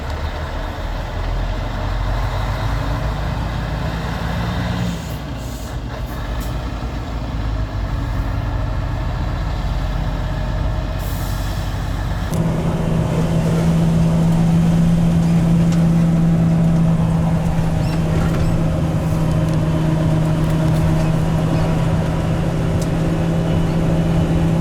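A Scania V8 420 T truck with a classic cab, kept in near-factory condition, drives along a narrow village road, its deep steady diesel drone loud and close throughout with a rising engine tone partway through.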